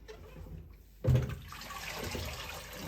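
Water drains and splashes from a handful of freshly dyed wool fiber squeezed by hand over a catering pan, starting abruptly partway through as a close, steady wet trickle that continues to the end.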